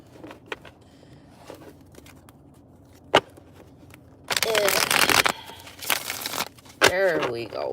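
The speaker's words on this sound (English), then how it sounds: "Let me shuffle that one more time" Tarot cards are shuffled in a few quick, crisp riffling bursts close up, between stretches of a person talking.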